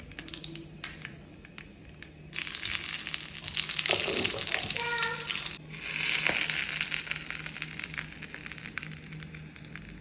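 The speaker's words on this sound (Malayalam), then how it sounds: "നമ്മൾ ജസ്റ്റ് കടുകും പറങ്ങിയും കൂടി വറുത്തിട്ട് ഇതിലേക്ക് ഒഴിച്ചു കൊടുക്കാം" Mustard seeds and dried chillies fry in hot oil for a chutney tempering: a hissing sizzle swells into dense popping crackles midway, with a few stirring scrapes, close and without speech.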